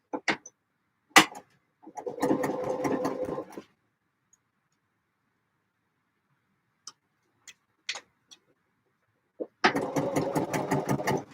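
A sewing machine running a final line of stitching on a garment, in two short bursts of rapid, steady stitching separated by a quiet stretch with a few small clicks and taps.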